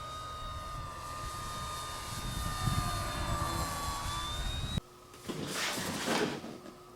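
A HobbyKing Swiss J-3 Cub 1400mm RC foam airplane's electric motor running at about half throttle, a steady whining drone with a slight pitch drift, then cutting off abruptly into a brief rustling clatter.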